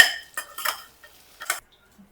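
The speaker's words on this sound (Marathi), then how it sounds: "कांदा, टोमॅटो, ढबू मिरची हे सगळं काढून घ्यायचं आपल्याला एका ताटामध्ये" Sautéed onion, tomato and capsicum are scooped from a pan onto a plate with a few sharp metal scrapes and clinks, separated by quiet gaps.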